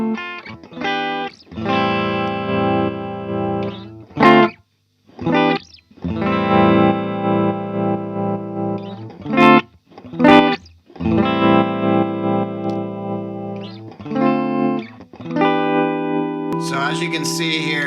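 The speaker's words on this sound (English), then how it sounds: "So go ahead and play some with tremolo." Guitar runs through the tremolo of a modded multi-effect pedal, its sustained distorted chords pulsing on and off in choppy bursts, broken by short gaps and a few sharper attacks.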